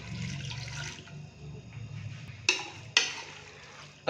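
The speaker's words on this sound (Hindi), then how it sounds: "1 कप पानी डालेंगे।" Water poured into a cooking pot of spiced goat intestine curry with turmeric, salt and red chilli powder, a steady close splashing pour followed by a couple of sharp clinks and splashes.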